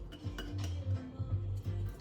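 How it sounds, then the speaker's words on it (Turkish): A metal cooking pot and utensils clink and clatter a few times close by, with a low hum underneath. "Tencere."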